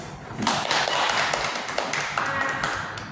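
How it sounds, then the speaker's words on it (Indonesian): Classmates clap for a group that has just finished a presentation in a tenth-grade maths class, dense scattered hand claps filling the room over about three seconds, with some faint voices underneath. "Beri aplaus dulu untuk teman."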